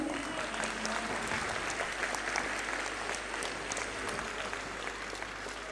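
Children clap together at a school function, a steady, even wash of applause at moderate level lasting the full stretch without pause, with no voices standing out.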